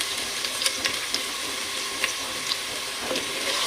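Sliced onions fry in oil over a high flame for vegetable rice, giving a dense, steady sizzling hiss up close with occasional faint taps and pops, and no talking.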